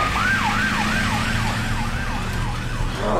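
An ambulance siren wails in a rapid rising-and-falling pattern over engine rumble, loud and close, in a TV drama scene.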